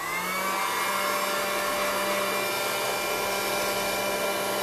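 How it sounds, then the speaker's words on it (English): A heat gun blows hot air to dry an altered wooden spoon, producing a steady, close, continuous rushing whir with a constant motor hum and no pauses. "So you have to hear little bit of noise of my heat gun."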